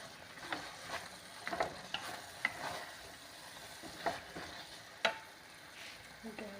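Palak paneer being stirred and mixed in a pan, with a spatula scraping and tapping against the metal in irregular strokes over a soft low sizzle, fairly quiet and close.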